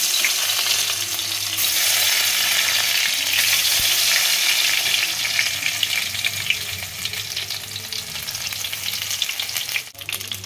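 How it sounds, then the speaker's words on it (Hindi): Eggplant pieces frying in a pan give a steady, loud crackling sizzle that carries on throughout, with a soft clatter near the end. "यहाँ पर बैंगन फ्राई हो रहे हैं"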